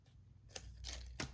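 Scissors snipping through paper while crafting, three quick crisp cuts close to the microphone, quiet and distinct against near silence.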